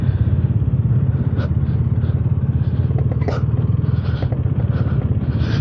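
A 2026 KTM Duke 250 engine idles close by, a steady loud low thrum with slight revving swells and a few faint clicks, running on its own without talk.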